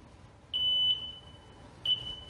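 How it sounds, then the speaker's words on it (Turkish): A home security alarm system arms itself with two loud, pure electronic beeps, a long tone followed by a shorter one, standing out clearly over a quiet room. "ben şimdi alarmı hemen devreye alıyorum"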